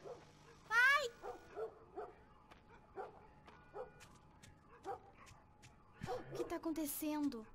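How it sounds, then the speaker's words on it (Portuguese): Dogs in The Last of Us Remastered bark, yip and whimper in a scattered series of sharp calls, some near and some farther off, ending in a louder flurry. "A cachorrada ficou louca."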